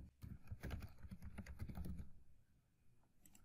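Rapid typing on a computer keyboard while entering JavaScript code, a dense run of clicky keystrokes for about two seconds that then thins out to a few scattered taps, close and clear with no talking.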